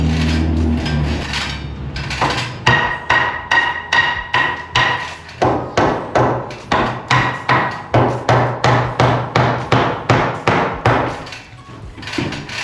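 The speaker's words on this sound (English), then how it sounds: "I have to hammer it" Steady hammering, about twenty sharp, evenly spaced blows close by, each ringing slightly before the next strike.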